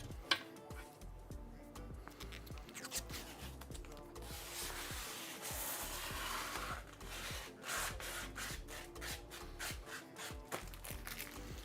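Protective film being peeled and rubbed off the inside panels of a Montech HS02 Pro PC case: soft continuous scraping and rustling with a longer smooth tearing stretch in the middle, fairly quiet and close.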